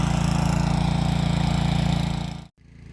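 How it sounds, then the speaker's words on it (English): A rototiller churns loose garden soil, its small engine thrumming in a steady, pulsing rumble nearby before cutting off abruptly near the end and then briefly resuming. "So while Barney's rototilling the garden"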